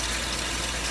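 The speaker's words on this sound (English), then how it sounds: "It's pushing water now." A boat's freshly replaced fresh water pump pushes water through the lines, a steady close rushing hiss with a low motor hum underneath, brief and continuous.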